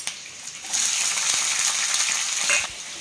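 Onions and green chillies fry in a pan of oil for moong dal with bottle gourd, giving a steady bright sizzle that swells after a quieter start and holds close and loud without voices.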